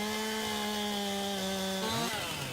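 Chainsaw cutting a fence post in Farming Simulator 19, a steady loud game-engine whine with a pitch that dips and shifts near the end as the cut finishes, alone without talk.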